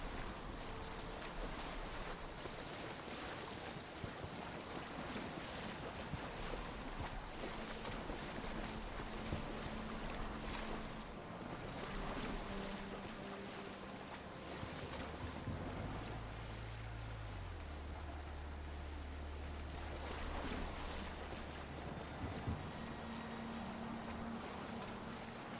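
A sailing ship crosses the open sea in Assassin's Creed Odyssey, with a faint, steady wash of wind and waves against the hull and occasional low tonal game sounds drifting under it, no speech.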